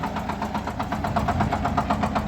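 A small single-cylinder engine on a four-wheel-drive SHIFENG 244 belt-driven mini tractor chugs at a quick, even rhythm, each firing pulse distinct, running close and steady without any talk.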